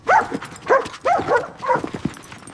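A pet dog at a family birthday cake gives a series of four or five short yelping barks and whimpers, close and fairly loud, with no talk.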